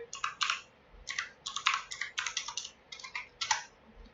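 Typing on a computer keyboard while entering a web server's IP address: clusters of quick, close keystroke clicks in short bursts with brief pauses between them, no talking.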